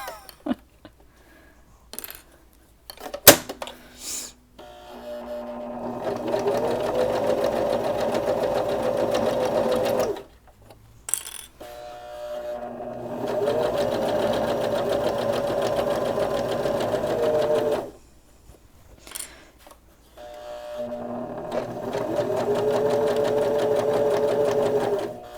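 A sewing machine backstitches the turning hole on a fabric Kindle sleeve, running in three steady bursts of close, rapid stitching separated by short pauses with a few light clicks and handling noises.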